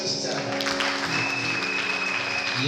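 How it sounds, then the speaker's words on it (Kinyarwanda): Congregation applauding at a church worship gathering, a dense steady wash of many hands clapping throughout, with a sustained musical tone and some voices beneath. "reka twongere imana amashyi cyane"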